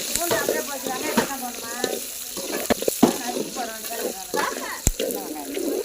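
Onions sautéing in a pan for a tamarind curry with dried mango, a steady sizzle with scraping stirs and clinks, while voices talk over it.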